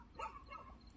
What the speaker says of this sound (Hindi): वो जो कुत्ते थे वो भौंकते हुए करीब आए हैं